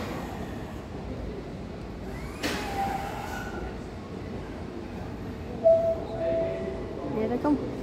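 Class 507 electric trains arriving at Liverpool Central underground station, a low rumbling approach with faint squeals and wheel noise that build up near the end, along with a few brief voices nearby.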